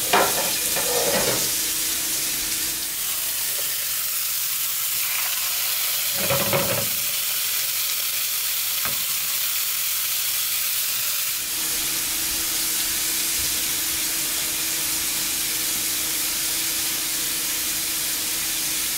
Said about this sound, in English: Let's put the bison burgers on there.